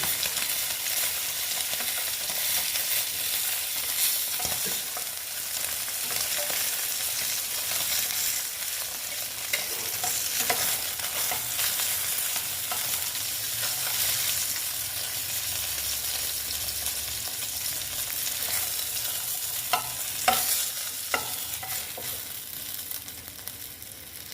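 Koi fish fry in hot oil for a Bengali tel jhal. A steady, close sizzle and crackle runs throughout, broken by occasional stirring clicks and scrapes, and no one speaks.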